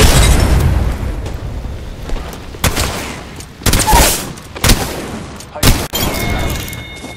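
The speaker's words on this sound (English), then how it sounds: "Throwing thermite." Apex Legends battle with a thermite grenade thrown amid heavy fire, loud repeated bursts and booms with sharp explosive hits spread across the scene.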